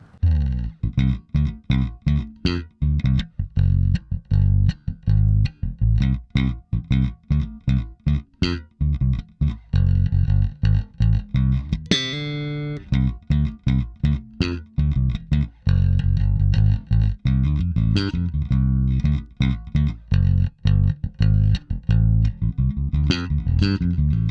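A Fender Custom Shop '62 Jazz Bass in aged shell pink, both pickups wide open at full tone, plays a long run of loud, punchy plucked notes with one brief slide partway through.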